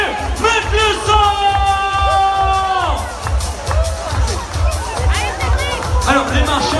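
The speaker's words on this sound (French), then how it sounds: "on les applaudit bien fort, mesdames et messieurs" A crowd at the start of a charity walk-run event cheers, whoops and yells, with some applause mixed in, while a loud, sustained tone and a busy babble of voices fill the space.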